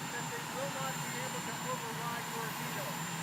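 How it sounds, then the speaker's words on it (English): A helicopter flying overhead gives a steady, loud broadband roar that fills the background throughout, with people talking beneath it. "You're competing with a helicopter, John."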